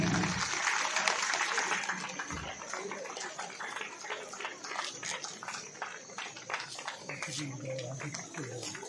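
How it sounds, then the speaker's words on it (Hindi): Audience applause at a school's 25th anniversary celebration, a steady dense clapping that fills the whole stretch with talk mixed in underneath. "जोरदार तालियां हो जाए।"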